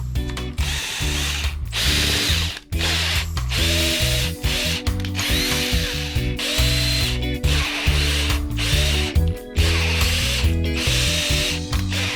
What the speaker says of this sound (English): a quick measure with the digital micrometer tells us that we need to drill 6 10mm holes